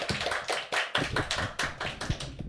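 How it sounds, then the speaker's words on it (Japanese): A short burst of clapping from a few people after the result of a werewolf party game, sharp irregular claps close up and alone, with no talk over them. "拍手。"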